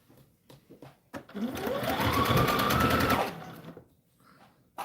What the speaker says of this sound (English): make sure you back stitch and sew all the way down